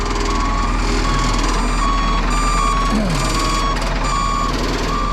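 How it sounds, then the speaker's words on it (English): A reversing alarm beeps steadily at an even pace, loud and close, over a rumbling engine. "I'm sorry for the beeping."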